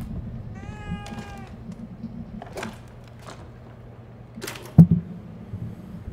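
Save Kitty, the cat in The Evil Within 2, gives a short rising meow in the game, followed by a few soft scrapes and a sharp thump, all fairly faint and alone.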